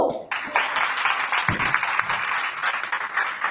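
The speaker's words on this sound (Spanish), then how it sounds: "Amén, un aplauso." A church congregation at a family-day service bursts into applause after a brief quiet start, with sustained, fairly close clapping and a few louder thumps mixed in.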